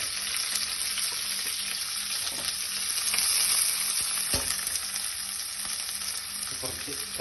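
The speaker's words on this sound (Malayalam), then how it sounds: "നെക്സ്റ്റ് നമ്മൾ അരിഞ്ഞു വെച്ചിരിക്കുന്ന സവാള ഇട്ട് കൊടുക്കുക." Chopped onions fry in rice bran oil with mustard seeds and green chillies for a vegetable curry, giving a continuous loud hiss and sizzle with an occasional stir, close up and without voices.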